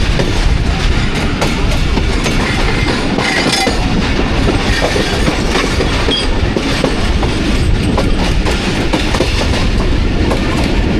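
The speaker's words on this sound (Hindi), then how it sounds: "भोलारी रेलवे स्टेशन से पास हो रही है ट्रेन हमारी।" The Shah Hussain Express from Karachi to Lahore running past Bholari railway station in Pakistan, heard from on board: loud, continuous rumble and clickety-clack of wheels over rail joints, no talk.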